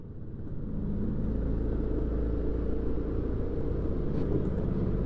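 A Bullet motorcycle labors up a steep hill in first gear on a Shillong road in Meghalaya, its engine a steady, loud low rumble that continues without break.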